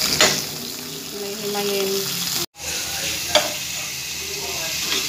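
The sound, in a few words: vegetables being stir-fried in a pan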